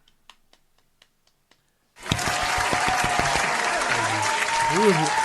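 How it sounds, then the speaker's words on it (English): A crowd bursts into loud, sustained applause after a few scattered early claps, at a live event in Nairobi, Kenya; a voice briefly rises over the clapping. "Another round of applause once again."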